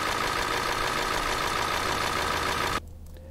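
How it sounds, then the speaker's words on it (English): Raw recording of a running car engine with its lifters clattering: a steady, dense mechanical idle with continuous fine ticking, loud and close, then cutting off abruptly near the end, leaving a quieter low hum. "it's the mechanical sounds of the lifters, undoubtedly"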